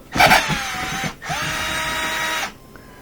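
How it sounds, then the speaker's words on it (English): Power driver whirring in two bursts as it backs Phillips screws out of a Miele dishwasher panel, with a steady tonal motor whine that drops in pitch near the end of each run, close and loud. "we're going to remove a couple of screws here, here, here, and here"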